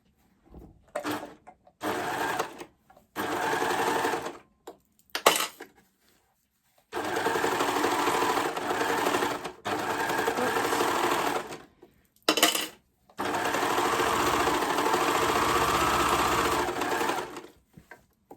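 Sewing machine stitching a raglan shirt, running in several bursts of rapid mechanical whirring separated by short pauses, loud and close with no talking.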